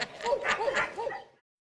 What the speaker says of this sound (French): Vous avez des petits chiens,